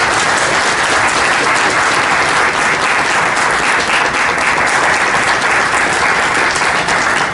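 Audience applause for the mayor at the Green Oaks Apartments groundbreaking ceremony, with a dense, steady crowd clapping close and loud throughout, without any speech.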